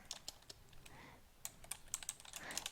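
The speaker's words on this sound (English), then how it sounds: "I'm going to type Danielle" Quick, irregular clicking of keys on a computer keyboard, close but soft, as someone types an entry into a balance sheet, with no voice.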